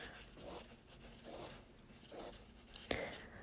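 A stiff Pilot steel fountain pen nib scratching across paper in soft, faint rhythmic strokes, with one sharper tap near the end.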